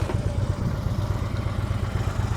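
A motorcycle engine runs steadily at low revs during slow-speed riding skills practice, a close, continuous low throbbing rumble with a faint rhythmic pulse and no talking.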